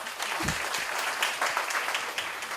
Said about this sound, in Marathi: त्यामुळे सगळ्यांनी स्वतःसाठी एकदा जोरदार टाळ्या वाजवा